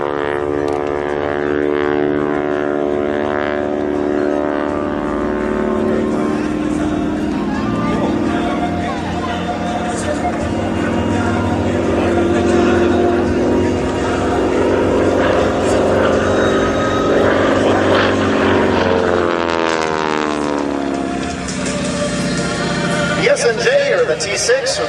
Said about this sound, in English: The T-6 or the Harvard is powered by a 600 horsepower Pratt & Whitney R1340 Wasp radial cooled engine